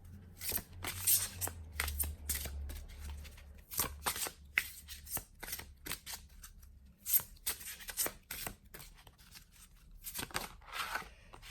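Tarot cards shuffled and drawn by hand, a quick run of crisp riffling snaps and flicks with short pauses, close and fairly quiet, with a low hum underneath and no talking.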